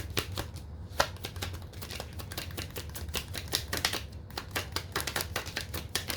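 Tarot cards being shuffled and drawn from a deck, a steady run of quick papery riffles and flicks with a few sharper snaps, close and moderately quiet, with no talking.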